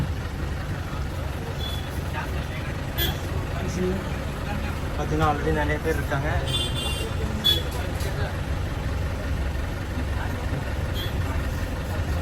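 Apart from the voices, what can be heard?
Goa government bus driving from Calangute to Panjim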